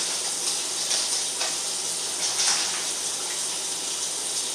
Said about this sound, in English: I've got the hot water on so it doesn't disturb my drainer